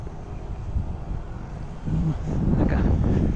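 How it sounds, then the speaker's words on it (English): Gusty wind buffeting the microphone, a low roaring rush that grows stronger and louder toward the end. "Really windy, maybe 54."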